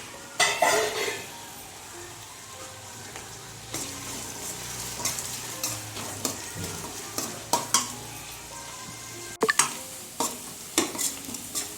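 Onions sautéing in a pan for chicken gravy give a soft continuous sizzle, broken by repeated scraping stirs and clinks of a utensil against the pan, close and steady with no talk.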